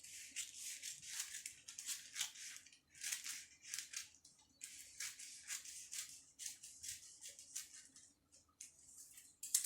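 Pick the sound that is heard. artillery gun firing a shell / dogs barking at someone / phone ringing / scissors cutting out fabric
scissors cutting out fabric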